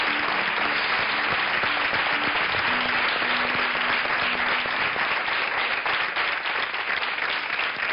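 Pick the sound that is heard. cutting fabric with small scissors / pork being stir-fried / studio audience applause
studio audience applause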